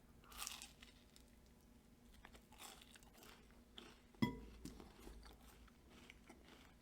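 A chocolate Rice Krispies treat is bitten and chewed up close, faint crunchy bites with one sharper crunch midway and quiet chewing around it.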